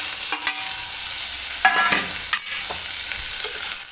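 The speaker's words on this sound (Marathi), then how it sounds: "तर टोमॅटो टाकून घेते." Tomatoes fry with onions in a pan for mutter paneer, giving a loud, close sizzle with bursts of scraping as a spoon stirs them around.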